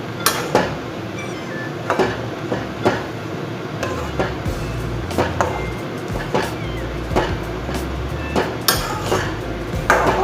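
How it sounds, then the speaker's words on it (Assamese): A spoon stirs onions and other ingredients in a metal pot while khar cooks, giving repeated close scraping and knocking clinks at an uneven rhythm over a steady low kitchen rumble, with faint voices in the background. "এতিয়া লৰাই দিম।"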